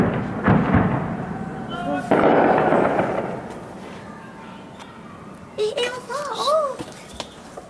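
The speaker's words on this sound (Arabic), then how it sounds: "قصف على مدينة حماه." Shelling over the city of Hama, with heavy booming blasts rolling through the first few seconds, then quieter rumbling while voices shout nearby.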